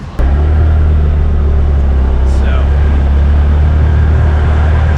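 A motorbike pulls away on a road in Patong Beach, its engine rumbling low and steady from a sudden start, with faint traffic behind it.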